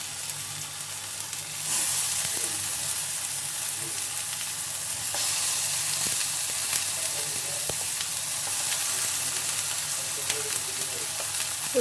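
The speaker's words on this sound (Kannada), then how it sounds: "ಎಣ್ಣೆ ಹಾಕ್ಕೊಂಡು ಇದೇನು ಮ್ಯಾರಿನೇಟ್ ಮಾಡಿಟ್ಟಿದ್ವಲ್ಲ ಸೊ ಅದನ್ನು ಹಾಕ್ಕೊಳ್ಳೋಣ." Marinated brinjal slices frying in oil on a tava, a steady close sizzle that swells louder after a couple of seconds and carries on evenly, with faint utensil taps now and then.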